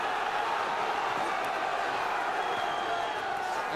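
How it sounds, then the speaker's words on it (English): Crowd on its feet at a boxing match in the Brentwood Centre, a constant dense roar of cheering and shouting that holds at an even, loud level throughout with no pauses. "Crowd on their feet here in this Brentwood centre as Ampofo throws in everything."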